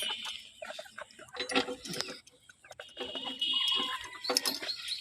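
Chickens cluck inside a cage, the sounds close and irregular, while a key rattles in the cage lock and people nearby speak and imitate the birds' calls.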